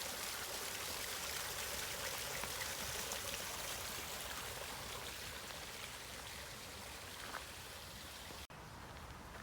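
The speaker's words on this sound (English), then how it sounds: "Here is a beautiful water feature at one end of the pond." A water feature at one end of a pond in an urban park splashes steadily, a dense, even rush of falling water heard fairly close and alone throughout.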